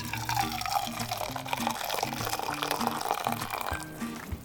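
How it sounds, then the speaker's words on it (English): Boiling water pours from a kettle into a measuring cup while making apple play dough, a gurgling trickle with rising, bubbly tones under faint background sound. "we just want to get to have 3/4 cup of boiling water. So I'm going to pour it in."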